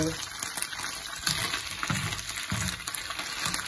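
Meat stirred in a sauté pan sizzles and crackles steadily, with scraping spoon strokes recurring every second or so, close and fairly loud.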